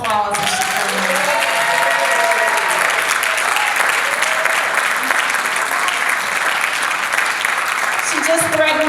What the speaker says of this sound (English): Give a round of applause if she comes.